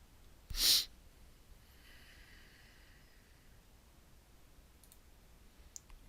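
A single sharp computer mouse click sounds early in a quiet room while working in an Excel 2013 spreadsheet, followed by a few very faint ticks.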